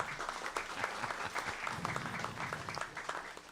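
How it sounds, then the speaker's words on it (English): Audience applause at a jazz festival talk, steady dense clapping that holds at a moderate level for several seconds without speech. "Give him a big hand of applause."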